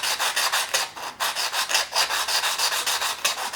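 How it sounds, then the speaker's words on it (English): A cheap ruling pen honed on wet and dry sandpaper gives rapid rhythmic rubbing strokes, close and steady, about four per second, with a brief pause midway. "slip the pen over the wet and dry, clamp it down a little bit, and just work it on the wet and dry"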